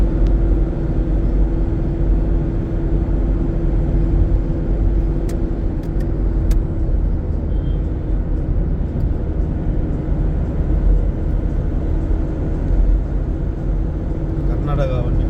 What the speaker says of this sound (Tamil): கர்நாடகா வண்டி போகுது. கண்டெய்னர்